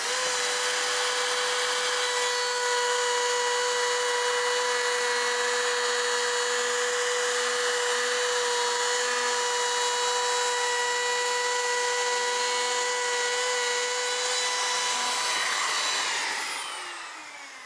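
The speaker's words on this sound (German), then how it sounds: "fahren jetzt einfach im gleichen Holz mit dem gleichen Fräser und der gleichen Tiefe fahren wir durch" Wood router with a 12 mm bit milling a 6 mm deep groove in wood, a loud, steady high-pitched whine held for many seconds before the motor spins down.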